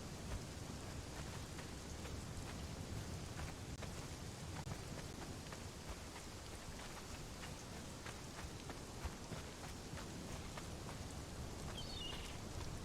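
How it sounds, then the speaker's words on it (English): Steady rain in the survival game Conan Exiles, a dense, even patter of drops on surfaces with faint distant rumbles, soft and continuous with no voices over it. "you got a lovely shower from the rain"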